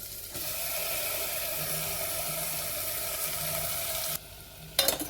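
Beetroot, carrots and tomatoes sauté in a pan for a carrot-tomato soup, giving a steady, loud, continuous sizzle that runs nearly the whole time before dropping off and ending in a few brief clatters.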